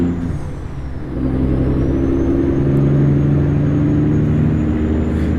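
A Peterbilt 389 truck engine in American Truck Simulator rumbles loud and close, a deep steady drone that swells slightly as it pulls, with no talking.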